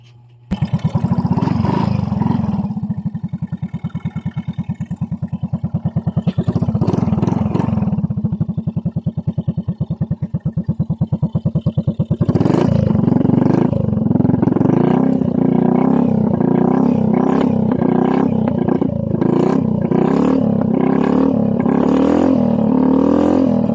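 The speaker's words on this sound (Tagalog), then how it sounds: "So pandarin natin ang kanyang motor." A Yamaha Mio scooter engine with a new standard cylinder block after a top overhaul starts up close and idles with a rough, pulsing rumble, then revs repeatedly in loud surges.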